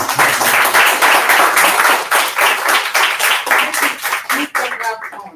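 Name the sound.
in-person audience clapping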